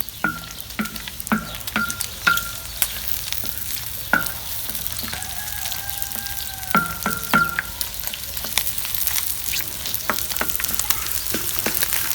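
Liver fries on a sac griddle in a village setting, giving a steady, loud sizzle broken by sharp scraping and stirring clicks of a utensil against the metal.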